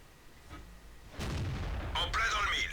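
Tank cannon fire from a KV-1 engagement in a tank video game, HE shells, heard as a sharp boom landing at about 1.2 seconds, followed by a sustained rumble and crackling debris, with a second higher-pitched burst near the end.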